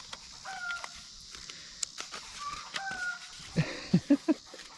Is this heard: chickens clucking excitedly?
yes